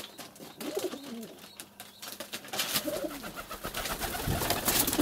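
A pigeon coos repeatedly to a female dove in a series of soft, rolling calls, fairly close, over steady background hiss and faint noise.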